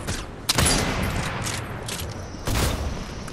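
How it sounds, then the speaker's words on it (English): Gunfire in Fortnite: sharp bursts of shots near 0.5 and 2.5 seconds over a steady noisy game background, fairly close and loud, with no talk. "Shooting too early."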